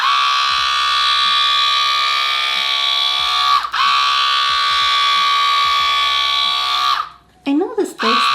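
A Split Ender Pro 2 cordless hair trimmer runs steadily on sections of hair in two long buzzing passes with a brief break between them, loud and close, then stops as a voice begins to speak.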